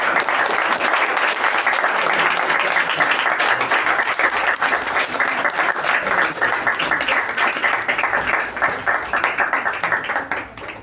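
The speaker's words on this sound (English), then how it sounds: "can we please stand up and give a round of applause for them?" Audience at a Toastmasters club meeting gives the leading team a standing round of applause, dense and steady throughout, many hands clapping at once, tapering slightly at the very end.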